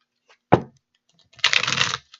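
A deck of tarot cards is shuffled on a table: one sharp tap, a short pause, then a brief rapid riffle of cards, close and clear in an otherwise quiet room.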